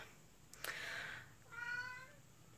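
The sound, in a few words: cat meowing in the room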